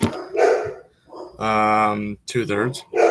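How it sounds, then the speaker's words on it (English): Pet dogs bark and whimper close by in a home, a few sharp barks and a drawn-out whine breaking through a person talking through a math lesson. "Let them bark."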